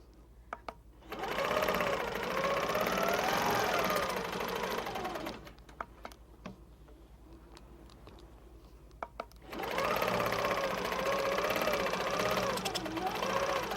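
A Handi Quilter longarm quilting machine stitches along a long ruler in two steady, rapid runs of mechanical whirring, with a quiet pause between them.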